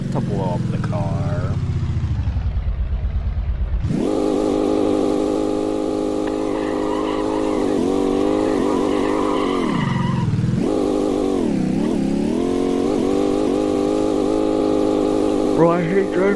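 An off-road-tired truck's engine drones steadily on pavement, a loud continuous roar that dips and rises with the revs, with tire hum underneath and talk mixed in.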